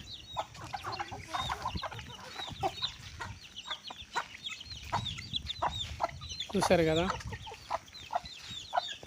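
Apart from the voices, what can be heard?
chickens clucking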